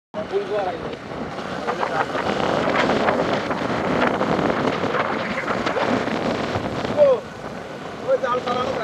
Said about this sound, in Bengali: সমুদ্রের গর্জন, এই গর্জনে মানুষ আসে দেখতে শুনতে